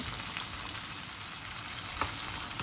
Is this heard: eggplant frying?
yes